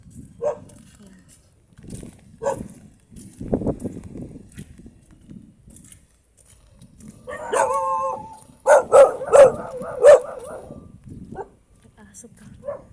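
Dog barking and howling outdoors along a rough, hard path near a flooded river, a few loud bark bursts with a drawn-out howl near the end, heard between a man's speech while walking.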